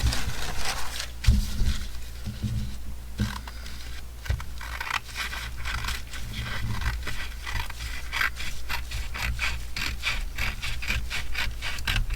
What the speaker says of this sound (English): It's a little tricky cutting the napkin